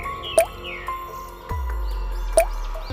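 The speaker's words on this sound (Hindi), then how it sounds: "वह कुछ देर सोचती है, उसके बाद पानी वाले गिलास में 2 बूंद दूध मिलाकर ले आती है" Milk drops falling into a glass of water give two sharp, separate plinks about two seconds apart, standing out against a faint background hum and a low rumble.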